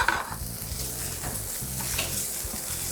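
Bacon sizzling steadily in a pan, a close, even frying hiss with faint crackles throughout, no voices.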